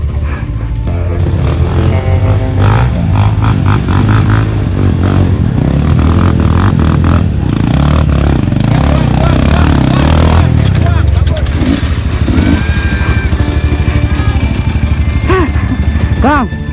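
A trail motorcycle revving hard on a muddy climb at an off-road practice event, a loud continuous engine roar with clatter while people shout encouragement over it.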